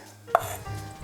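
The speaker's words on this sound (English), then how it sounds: "I'm going to chop this up and throw it in this dip." A knife chops through cooked, cooled bacon on a cutting board, one short close knock with a light scrape after it, in a quiet kitchen.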